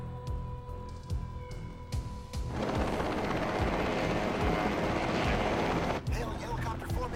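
A formation of helicopters in an animated action film thunders with dense, loud rotor and engine roar that swells midway and cuts sharply, following lighter thumps and a tone, with a voice faintly present.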